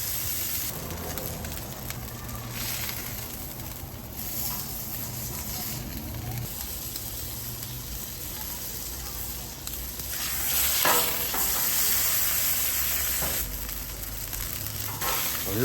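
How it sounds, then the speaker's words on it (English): Denver steak hard-searing in hot oil, a steady loud sizzle and crackle of frying meat that swells briefly partway through, close by with no talking. "a little bit of oil down. That's what we want to hear, hard sear."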